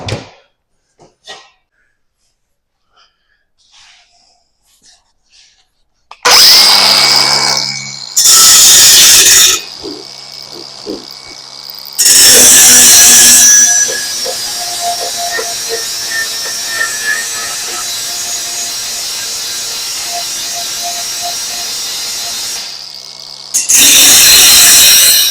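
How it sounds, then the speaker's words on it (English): An angle grinder cleaning up metal on a pickup truck tonneau cover project, with short loud bursts of grinding followed by a long sustained whining pass, close by and alone. "Clean that up with the grinder."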